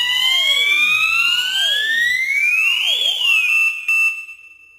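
A Perkotek 12WF wireless WiFi alarm system siren sweeps up and down in pitch, wailing repeatedly before settling into a steady tone and cutting off.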